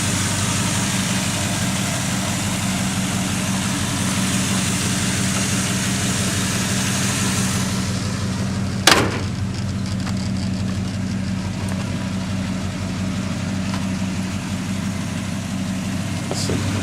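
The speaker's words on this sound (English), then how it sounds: "Now, of course, the exhaust sounds wonderful." A 1968 Oldsmobile 442 idling, its exhaust giving a steady low rumble that stays even throughout, with a brief sharp knock near the middle.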